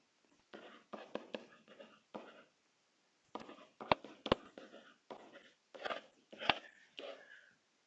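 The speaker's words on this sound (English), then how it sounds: "then I'm going to write" Pen writing steps down on paper, a close, quiet run of short scratchy strokes with brief gaps and a few sharp taps, heard alone without speech.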